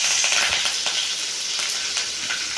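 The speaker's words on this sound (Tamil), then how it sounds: "எண்ணெய் காஞ்சோன்னா கடுகு போட்டுக்கலாங்க. பச்சை மிளகா ஒரு 2 போட்டுங்க." Mustard seeds and green chillies sizzle and crackle in hot oil for a chicken gravy, a steady close hiss with scattered sharp pops and no talking.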